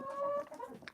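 Two hens in nesting lay boxes cluck close by, a sustained tonal call followed by a run of short, choppy clucks.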